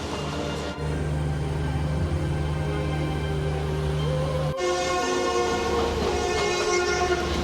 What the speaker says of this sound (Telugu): ఈ 11 ప్లాట్ఫామ్లో మన సెంట్రల్ వెళ్ళే ట్రైన్ వస్తుంది